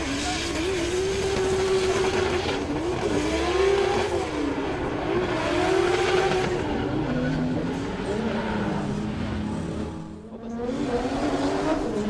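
A Subaru BRZ drift car fitted with a 2JZ engine revs hard and steadily at a drift event, a loud wavering engine tone rising and falling, dipping briefly near the end before picking up again.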